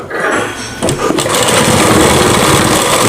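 Sewing machine stitching cloth for a Rajputi poshak kanchali blouse, a steady close mechanical whir running throughout after a brief catch near the start.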